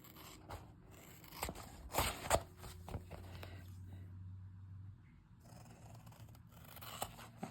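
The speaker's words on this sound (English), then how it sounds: "I'm going to use scissors for this one." Scissors snipping through fabric for an applique ID badge holder, a few close, quiet crisp cuts and scraping with soft handling noises between them.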